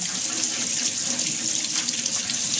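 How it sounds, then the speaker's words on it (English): Tap water runs steadily over cooked chicken in a colander in a kitchen sink, rinsing off fat and sodium before it goes into healthy chicken and bean burritos; a close, continuous splashing rush with no talking. "Just going to wash the chicken off."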